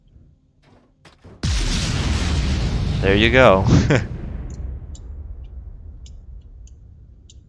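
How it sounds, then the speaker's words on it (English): Torpedo strikes in the space game Starbase hit with a sudden loud boom, then a rolling roar with crackling debris that slowly fades; someone says a few words just before the blast. "Yeah, some big explosions."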